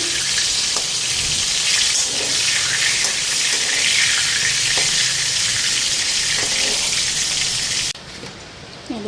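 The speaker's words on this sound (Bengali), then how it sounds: "বেগুন ভাজা এক পিট ভাজা হয়েছে মানে উল্টায় দিয়ে নি" Steady, close sizzle of eggplant frying in a pan with a faint scrape or two as it is flipped, continuing throughout before dropping slightly near the end.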